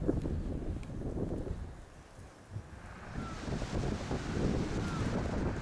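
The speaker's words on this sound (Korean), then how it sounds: "하얀 파도가 바위에 철썩이고 푸른 소나무 숲과 황금빛 갈대밭이 바람에" White-capped waves slap against rocks on a rocky island shore under steady wind, a broad continuous wash with surges rising and falling, close and moderately loud with no voices.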